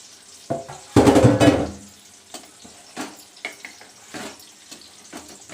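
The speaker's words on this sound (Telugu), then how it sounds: "ఇందాక మ్యాగ్నేట్ చేసిన గిన్నెలోనే కొంచెం వాటర్ పోసి కడిగి పోసేస్తున్నాను" Water is poured into the bowl used to marinate chicken, swirled to rinse it, and poured into a chicken curry. A loud splashing pour lasts about a second, followed by softer sloshes and clinks nearby.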